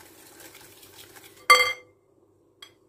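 A spoon gives one sharp metallic clink against a pot while cocoa, sugar and oil are stirred. A soft scraping comes before it, and a faint tap follows.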